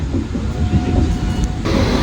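Train rumbling into Shoranur Junction railway station in Kerala, a steady low rolling roar with a faint tonal whine, continuous and fairly loud with no talk.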